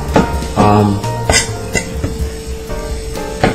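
A knife chops chunks of pork asado on a cutting board to mince siopao filling, giving a few irregular sharp thuds and clinks up close with faint kitchen clatter between them.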